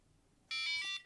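A Knog Scout bike tracker alarm sounds a single shrill electronic tone lasting about half a second, loud and close after a quiet moment.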